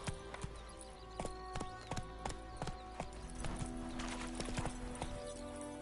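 Horse hooves clip-clop in a steady galloping rhythm in The Witcher 3 video game, close and fairly loud, with a brief whinny and game ambience underneath.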